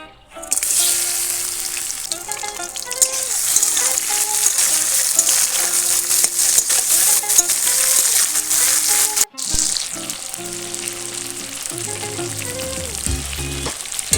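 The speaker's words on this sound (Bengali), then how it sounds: "চিংড়ি মাছটা কিন্তু সরষের তেলেই ভাজা হবে" Tiger prawns frying in hot mustard oil in a kadai crackle and hiss in a loud, dense sizzle, cut by a sudden brief break, then resuming with occasional rattles and low background noise.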